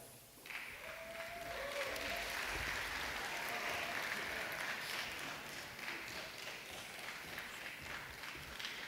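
Graduation ceremony audience at DCU applauding: a steady, dense wash of clapping that swells in about half a second and holds evenly to the end, with no speech over it.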